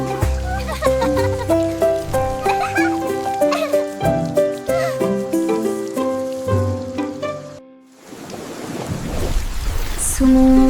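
Bright, bouncy music plays, cuts out briefly, then a rushing hiss of falling rain comes in under the returning music.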